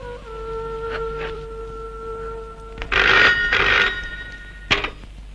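A telephone bell rings in short, bright bursts, a few seconds apart, over a steady low hum and faint background tones.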